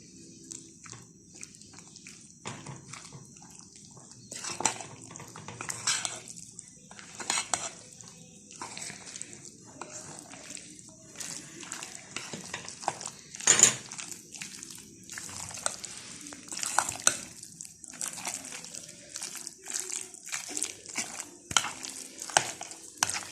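Ingredients for chicken Manchurian, with a teaspoon of white vinegar added, get stirred together in a bowl, giving soft, irregular scraping and clinking of a spoon against the dish. The stirring is fairly close and continues in bursts with no talk.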